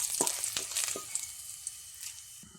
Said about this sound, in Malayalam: വെളിച്ചെണ്ണ ചൂടാകുമ്പോൾ അതിലേക്ക് കുറച്ച് 1/2 സ്പൂൺ കടുക് ചേർത്ത് കൊടുക്കാം.